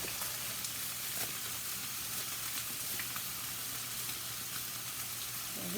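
Flounder fillets fry in a hot pan with a steady, dense sizzle and fine crackling pops throughout, close and even in level with no talking.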